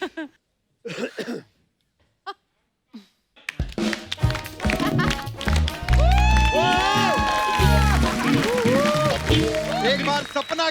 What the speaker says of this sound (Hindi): एक बार सपना के लिए जोरदार तालियां।